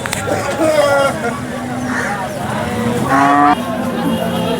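A cow lows in a couple of drawn-out moos amid a busy crowd of people chattering nearby at the Sangola cattle market.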